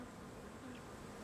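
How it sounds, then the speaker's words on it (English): Bees buzz in a continuous, dense drone among flowers, a soft steady hum with no other sounds. "Now, there were bees."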